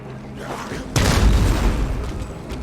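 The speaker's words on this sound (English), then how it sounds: "Exploding throwing knife, go." An exploding throwing knife detonates with a sudden deep boom in the Dying Light zombie game, a single loud blast that rumbles and fades over a couple of seconds.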